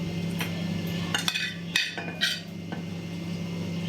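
A spice paste is stirred and mixed in a bowl for a Bengali village dish: a handful of scraping, clinking strokes in quick succession, close and moderately loud over a low steady hum, with no talk.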